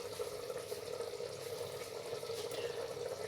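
A cup of water poured into a pot of chana dal, a steady, close splashing and running wash of liquid that holds evenly throughout with no talk.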